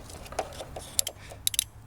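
Relay in the blower motor circuit of a 1996 Ford Ranger, plugged back in during a heater repair, clicking in a few sharp, close, quiet ticks over a low background hum.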